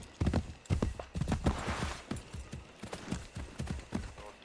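Horse hooves clip-clop in a steady trotting rhythm, close and fairly loud, with faint game ambience behind, in Assassin's Creed 3.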